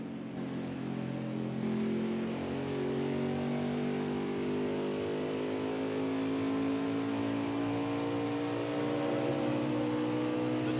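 Race car engine during a late-race run as the driver manages fuel, a steady loud drone whose pitch rises slowly as the car accelerates, heard alone without commentary.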